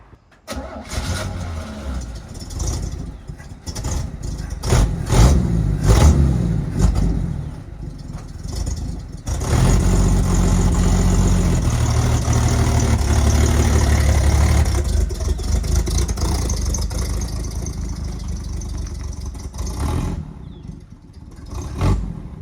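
The engine of a 1964 Chevy G10 van cranks and stumbles through several uneven bursts, then catches and runs at a loud, rough, steady rumble for several seconds before dropping off. There is no speech.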